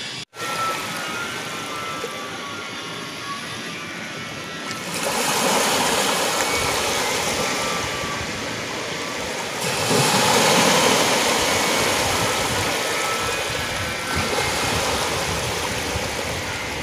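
Sea water surging and crashing over rocks at Mahim Beach in Mumbai, a steady broadband roar of churning surf with louder swells arriving every few seconds, close by and without talk.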